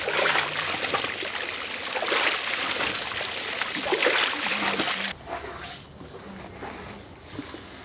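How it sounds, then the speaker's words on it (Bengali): Water gushes and splashes from a newly installed tube well, a continuous close wash that drops to a lighter trickle partway through. "এই যে পানি উঠে আসতেছে আস্তে আস্তে"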